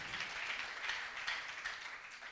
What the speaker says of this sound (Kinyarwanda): Iyo Mana bikoze mureke tuyikomera amashyi menshi cyane